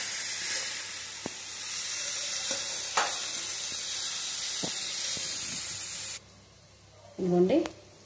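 Sliced onions sizzle steadily in a pan with salt, cooking down to golden brown for a chicken gravy curry, with a continuous frying hiss that drops off near the end before a brief burst of louder sound.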